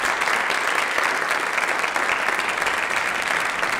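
Sustained, loud applause from a sizable audience at a talk, welcoming a guest speaker, steady clapping filling the whole stretch without pause.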